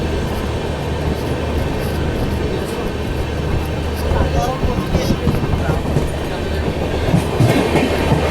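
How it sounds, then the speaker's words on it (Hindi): A passenger train pulls out of Himmatnagar Junction in heavy rain, its general coaches and generator car rumbling steadily with a loud, continuous roar and faint rhythmic wheel clatter close by. "डिपार्चर दिखाते हैं हिम्मतनगर जंक्शन से"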